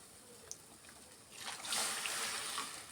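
Hot milk pours into avalakki payasa in a pan, a soft trickle rising into a fuller, splashy stream midway, faint and close with no voices.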